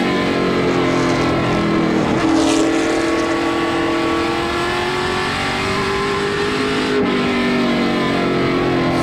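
Pro Stock race cars racing side by side at Wiscasset Speedway, a loud continuous engine roar with rising and falling pitch as the cars accelerate through a turn.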